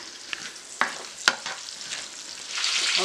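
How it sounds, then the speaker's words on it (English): Onions and tomatillos saute in a pan, giving a soft, continuous sizzle broken by a few quick utensil taps, the frying swelling slightly louder toward the end, close by and without voices. "So I'm going to saute these till they're soft"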